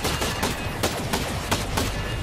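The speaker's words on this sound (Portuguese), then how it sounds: "Tem outros inimigos atirando." Repeated gunfire from enemy soldiers in Ghost Recon Breakpoint, a steady crackle of shots with several sharper bursts standing out, loud and close throughout.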